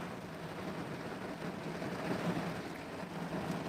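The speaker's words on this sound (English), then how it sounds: "It's really rainy. It's raining outside." Rain falling outside, a steady dense hiss of drops continuing evenly without pause, moderately loud and close.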